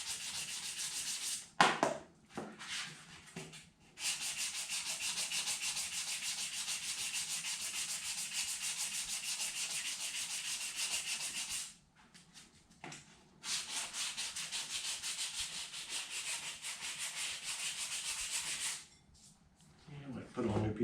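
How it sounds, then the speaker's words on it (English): Steady, rasping strokes of hand sanding with a worn-paper sanding block on a 1955 car's rear bodywork run long and even, pausing briefly twice with quiet clunks, close and fairly soft. "This is my really expensive sanding block right here."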